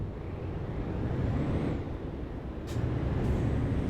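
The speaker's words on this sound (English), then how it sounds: "it made the tyres skid across the road" A heavy truck's tyres skid briefly on a road in Euro Truck Simulator 2, a thin squeal riding over a loud, steady engine and road rumble, with a couple of short sharp clicks near the end.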